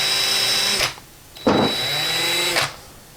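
A power tool cutting a thin quarter-inch ring from a half-inch piece of cork runs in two close, loud bursts, each about a second long, with a short quiet gap between them and no talk.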